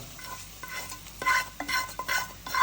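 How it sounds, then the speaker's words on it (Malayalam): Mussels are tipped into masala in a pan and stirred, with sizzling and repeated scraping and clinks of a spoon against metal, close and without speech. "കല്ലുമ്മക്കായി നമ്മളാക്കി വെച്ച മസാലയിലേക്ക് അങ്ങ് തട്ടി കൊടുക്കുന്നുണ്ട്"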